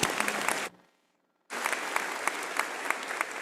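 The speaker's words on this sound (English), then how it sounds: "One more round of applause for all these award winners" Crowd at a university commencement ceremony claps for award winners, dense sustained applause that briefly stops, then resumes strongly.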